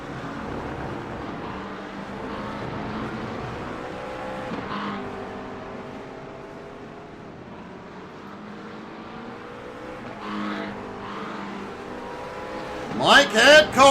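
GT3 race cars, including McLarens, Fords, Porsches, a BMW, a Mercedes and an Audi, circulate at Interlagos in a racing game, a steady engine drone running under continuous commentary, with sharp tire squeals and revs near the end.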